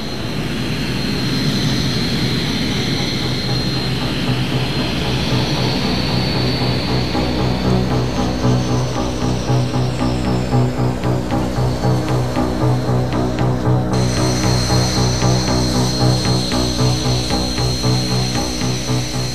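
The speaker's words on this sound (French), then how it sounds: "Le premier avion se pose et ouvre son parachute." French Air Force Jaguar jet landing on a runway with its braking parachute deployed, a loud steady roar of turbine whine and broad rumble that holds for nearly twenty seconds, a second aircraft's noise joining partway.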